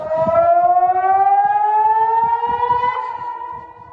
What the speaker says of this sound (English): The town siren had been triggered.